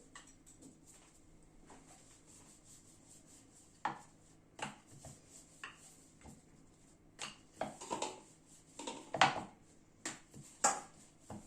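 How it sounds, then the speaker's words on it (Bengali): Paratha dough being rolled out with a rolling pin on a floured surface, a series of soft knocks and rubbing scrapes that grow busier and louder toward the end, heard close and alone. "বেলে নিলাম পরোটাটা।"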